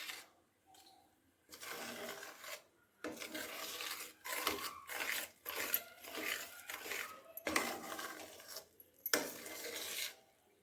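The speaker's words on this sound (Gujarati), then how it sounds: "સિંગદાણાનો ભૂકો એડ કર્યા બાદ અને સરસ મિક્સ કરીશું" Crushed peanuts are stirred and scraped around a pan for laddus, a dry rasping, rubbing sound in bursts with short pauses, close and moderately loud, with no talk.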